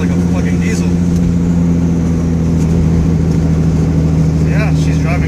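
A 1970 Datsun 240Z with a turbocharged L28ET engine runs steadily with a deep, droning, diesel-like tone. It holds a constant near and loud hum with a faint voice in the background.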